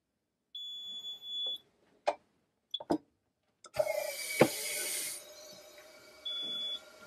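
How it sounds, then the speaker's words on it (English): Drufomat Scan mouthguard forming machine beeping at the end of its countdown: a steady tone lasting about a second, then short clicks and mechanical hissing from the pressure chamber, and a second tone near the end. "You'll hear a beep first when the clock hits 0."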